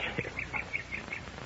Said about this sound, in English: Listen to the birds sing.